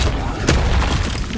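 Incendio fire spell cast in Hogwarts Legacy on PS5, a short burst of flame whooshing into a loud low boom amid ongoing game combat noise, one sharp hit near the middle.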